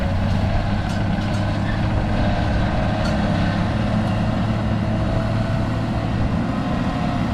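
A heavy earthmoving machine drives over piles of shale at a property groundwork site, giving a steady, loud diesel rumble with scattered clanks and rattles throughout and no voices.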